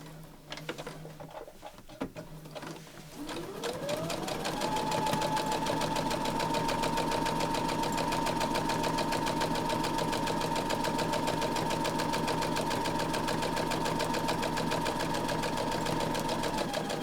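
A sewing machine stitches the seam of a patchwork tablet pouch, starting after a few seconds of handling and then running in a loud, steady whirring hum close by, without talk.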